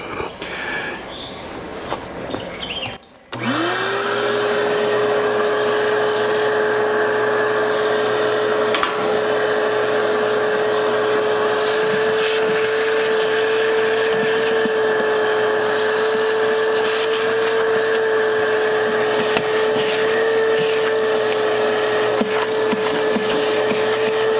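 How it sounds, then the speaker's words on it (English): A vacuum cleaner starts with a click and then runs continuously with a steady, loud whine and airy roar, occasional rattles of debris being sucked from an AC condenser. "now I'm going to vacuum the rest of it out and clean it out real good"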